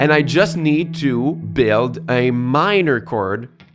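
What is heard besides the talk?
No everyday noises stand out.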